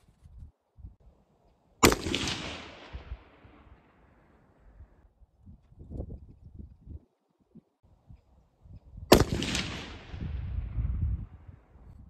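Two sharp .223 Remington rifle shots fired with 62-grain bullets over a load of RS powder, each a loud crack with a long decaying tail, about seven seconds apart, with faint handling noises between.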